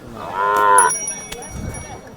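A cow lows once at a Khillar cattle market in Sangola, a short, nearby moo with a clear harmonic tone, followed by quieter market background and faint rustling.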